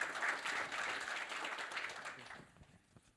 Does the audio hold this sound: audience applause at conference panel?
yes